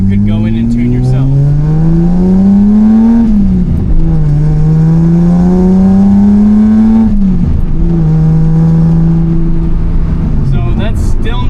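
Datsun 280z engine running on FAST EZ EFI fuel injection under throttle, droning loudly and rising in pitch through gears with dips at shifts, recorded from inside the car with someone talking over it.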